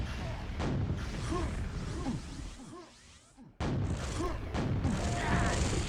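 Grenade explosions in the QuakeWorld video game, a rapid series of heavy booms and crashes layered with game action, one brief drop to near quiet, then loud bursts resume.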